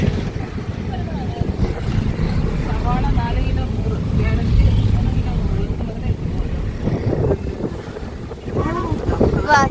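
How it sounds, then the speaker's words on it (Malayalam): Steady, loud wind rush buffets the microphone throughout, like cold air streaming past a moving vehicle on a night ride, with voices talking faintly underneath. "ചെറിയ മിന്നല് തണുത്ത കാറ്റ് നൈറ്റ് റൈഡ്"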